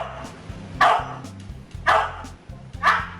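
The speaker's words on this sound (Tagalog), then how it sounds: "Ang aso ito, mistulang math genius at kayang itahol ang mga numero." A dog barks three times in a slow, evenly spaced count. Each bark is sharp and close, with a low background hum between barks.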